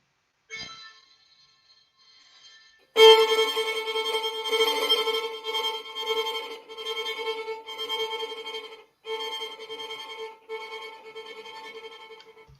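A bowed violin plays an irregular tremolo on a sustained note, with uneven, trembling bow strokes, starting after a brief quiet attempt, with short pauses between phrases.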